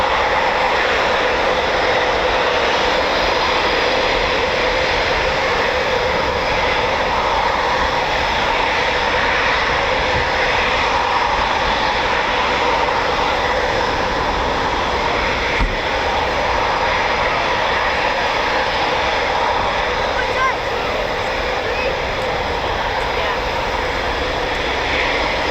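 An RAF Typhoon FGR4 fighter jet at RAF Coningsby gives a sustained, loud, even engine roar lasting the whole stretch, with people's voices faintly mixed in beneath it.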